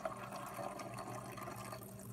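Tap water runs from a kitchen sink into a bottle being topped off for a homemade cleaner, a quiet, steady rushing pour close by.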